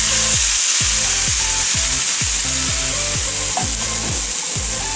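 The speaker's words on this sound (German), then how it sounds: "Dann die Brühe dazugeben." Broth hits a hot wok of Thai vegetables with lentils. A loud, continuous sizzle runs under about a dozen evenly spaced scraping strokes of stirring, close up and with no talk.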